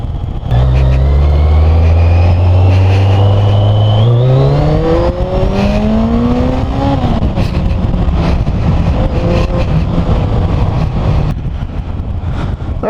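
A Yamaha XJ 650 Turbo motorcycle engine pulls hard under acceleration from low revs in third gear. Its loud, continuous tone climbs steadily in pitch over several seconds, then holds as a steady roar with no talking.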